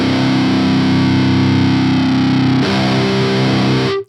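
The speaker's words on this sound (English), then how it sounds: "Honestly, I really like the sound of Mesa dual rectifiers." A distorted electric guitar plays through a Mesa Dual Rectifier amp, a thick, loud, saturated sustained chord that shifts to a new chord partway through, then stops abruptly.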